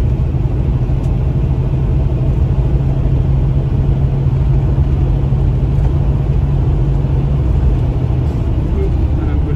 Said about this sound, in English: Van is driving well. It's braking well as well.